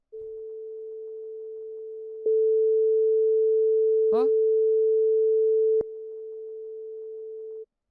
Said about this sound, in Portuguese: 440 Hz, uma onda senoidal